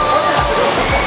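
Water ride at Fuji-Q Highland in Japan with a loud, continuous rush of splashing and sloshing water, close by, with brief low whooshes as the boat hits the pool; voices are heard over it.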